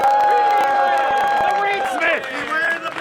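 A live crowd at a Pokémon fighting-game tournament cheers, whoops and claps for a player, loud and close, with excited voices mixed into the roar.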